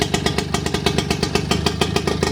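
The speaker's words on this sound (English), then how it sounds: "She runs very nicely. She idles beautifully as well." A British Seagull 102 outboard motor idles steadily on its first run after sitting, a fast even putter of firing pulses, close and fairly loud, with no other sound.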